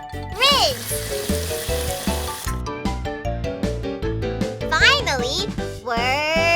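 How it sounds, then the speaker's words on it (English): A cartoon car wash rinses a car with cool water. A hissing, sizzling spray runs under cheerful children's music, with voices speaking and singing over it the whole time. "Then they rinse with cool water."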